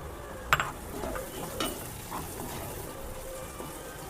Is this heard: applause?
no